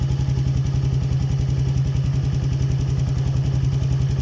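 A Yamaha Nmax v2 scooter engine idles at low RPM with a fast, steady pulsing putter, close and constant with no talk over it.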